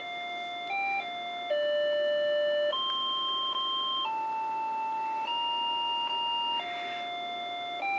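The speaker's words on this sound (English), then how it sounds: "this virus is playing a version of Silent Night over the PC internal speaker" A simple melody, Silent Night, played by the DOS Christmas virus as pure electronic square-wave tones over a PC internal speaker, one steady note after another in a slow tune, clear and close.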